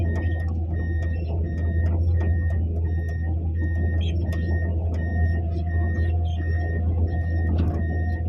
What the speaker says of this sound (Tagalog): Ang bibilis ng mga sakyan na yan oh